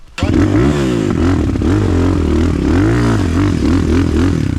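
Motorcycle fitted with a swapped ZS 172FMM engine bored out to 77 mm pulls away from a standstill, its loud close engine note rising and falling through revs with a steady harmonic drone and no talk.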